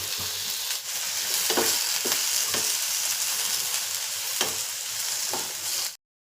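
Onion and tomato fry loudly in a pan, a steady dense sizzle with occasional stirring scrapes, close and alone, cutting off abruptly at the end.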